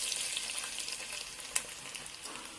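Chopped onions and blended pepper hiss and sizzle in heated red palm oil while cow peas are being cooked, a steady, close frying crackle with one brief sharper pop.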